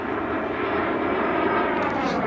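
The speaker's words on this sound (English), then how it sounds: "Planes are still in the sky." Airplane passing overhead, a steady, loud broadband engine roar that holds constant and alone throughout.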